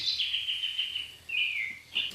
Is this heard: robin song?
yes